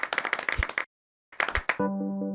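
Animated stick figures from Animator vs Animation clap in a quick burst of claps, then a pause, then another short round of clapping before a sustained musical tone.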